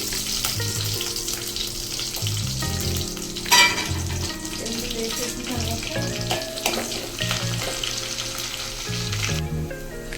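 Dried red chillies, seasoning seeds and crushed garlic crackle and sizzle loudly in hot oil, a dense continuous frying hiss with a brief louder burst partway through.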